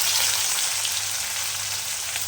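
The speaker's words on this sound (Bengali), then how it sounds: "রসুনটা জাস্ট একটু ভাজা হয়ে গেলে পেঁয়াজগুলো যে কুচিয়ে রেখেছি, একটা বড় সাইজের পেঁয়াজ, ওটাও দিয়ে দিলাম" Garlic and a large chopped onion frying in a pan, a steady, bright, close sizzle with a faint low hum beneath, continuous without pauses.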